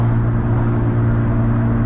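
A tuned car engine idles loud and droning right after a cold start, a steady, heavy rumble close by with no talking.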